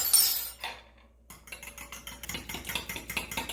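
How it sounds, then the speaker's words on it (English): Egg bake casserole ingredients with salt and pepper being mixed in a bowl, a quick run of light clinks and taps from the utensil against the bowl after a brief pause, close and fairly quiet. "I'm going to mix that together to be well combined"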